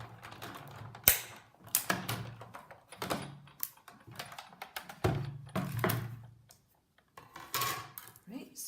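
A manual die-cutting machine runs a paper die and cutting pads through its rollers for a Christmas card, giving a series of close, loud mechanical clunks, creaks and grinding passes with short pauses between them.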